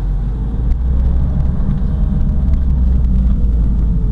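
Low, steady engine rumble and road noise from inside a Smart car as it drives along, continuous and fairly loud.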